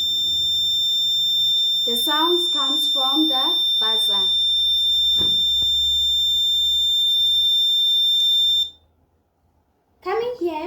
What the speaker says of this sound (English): The sounds comes from the buzzer.